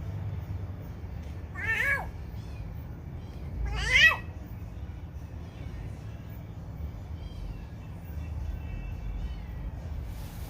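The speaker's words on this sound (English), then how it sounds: "Oh, the cats want to eat." Hungry cats at a home give two separate rising meows a couple of seconds apart, moderately close, followed by a long stretch of low background hum.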